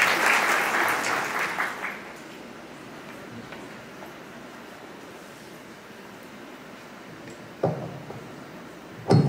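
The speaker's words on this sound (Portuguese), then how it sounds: "Uma salva de palmas para Paulo." Church audience clapping together at a family prayer service, a dense burst of applause that fades within about two seconds, followed by a quiet room with a few scattered claps and thumps later.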